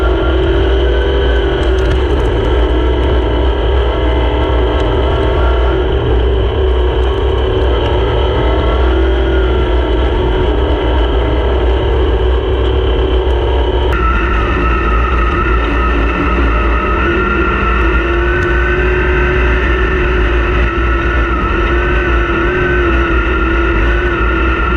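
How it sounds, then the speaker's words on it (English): Sprint cars race through turns on a dirt oval, a loud continuous wall of high-revving engine drone from several cars at once, the pitch shifting midway as the pack rolls through the bends. "the rut's really unsettling the cars there as they roll through turns 3 and 4"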